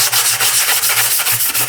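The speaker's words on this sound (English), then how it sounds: "First I need to sand them with the sanding paper so that they aren't completely see-through." Steady back-and-forth rasp of sandpaper rubbing plastic, in quick regular strokes, close and continuous.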